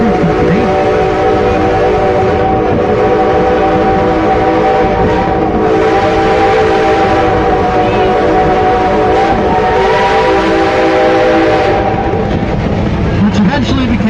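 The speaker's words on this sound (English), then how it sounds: "The locomotive pulling our train today is quarter number 2. It was built by the H.K. Porter Locomotive Works in Pittsburgh, Pennsylvania in 1911." A 1911 H.K. Porter steam locomotive, Number 2, hauls a heritage passenger train at the Hesston steam museum, with a steady layered whistle-like tone held over continuous rumbling and clanking for the whole stretch.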